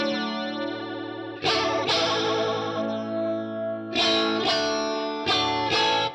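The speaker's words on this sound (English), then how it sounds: "the Deluxe Electric Mistress rate is the speed of the flanger." Electric guitar chords played through a Deluxe Electric Mistress flanger pedal, with a sweeping, whooshing jet-like swirl on sustained strums and several sharp re-attacks, loud and close.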